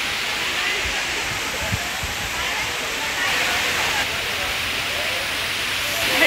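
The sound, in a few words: water cascading down lake steps like a waterfall, Kaas Lake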